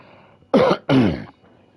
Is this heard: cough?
yes